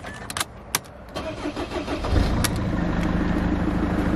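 A Mercedes C-Class engine cranks with a few clicks, catches after about two seconds, then settles into a steady nearby idle.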